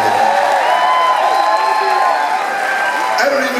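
A concert audience at Danforth Music Hall claps, cheers and whoops loudly and continuously at a show, while someone speaks over the noise.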